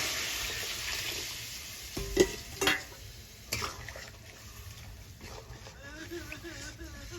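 Hot boiling water goes into a spice paste frying in a pan for a fish curry with cauliflower, producing a steady sizzle and stirring with a few sharp clinks and bursts near the middle.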